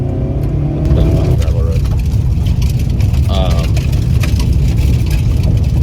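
A car driven hard around an autocross course, its engine roaring and revving loudly and steadily throughout, heard from nearby with wind noise.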